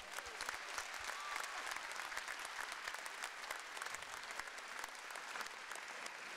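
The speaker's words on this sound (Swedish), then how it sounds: "En applåd för det, va?" Sustained audience applause at a festival in Halmstad, many hands clapping evenly at a fairly distant, low level for several seconds.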